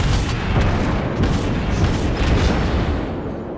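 In a naval combat video game, a ship takes an explosive hit: a loud, deep rumbling boom that fills the whole span and fades slightly toward the end.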